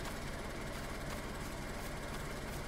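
Vehicle engine in the DayZ video game starting up and settling into a steady idle, a dense, continuous low rumble with broadband noise that holds even throughout, no voices.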